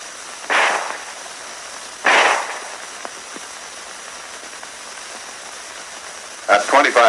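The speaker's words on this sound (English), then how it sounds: "A burst of 2 shots assures at least 1 hit." Rapid pistol fire from a 1911A1 at a shooting range: two sharp shots about a second and a half apart, each trailing off in a hissy echo, then a quick rattling burst at the end.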